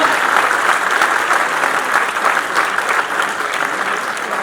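Audience applause at a literary festival, steady dense clapping from a crowd held at an even level throughout, with no talk.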